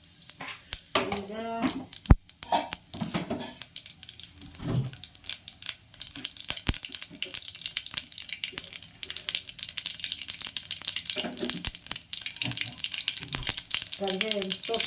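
Mustard seeds and cumin crackling and sizzling in hot oil, a busy close spatter with a few sharp pops and some stirring, with a voice speaking briefly.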